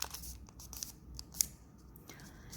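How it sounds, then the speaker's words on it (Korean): Scissors cutting paper during a math experiment, a quick series of soft, crisp snips close up with faint rustling between cuts. "이 면과 수직으로 잘라줍니다"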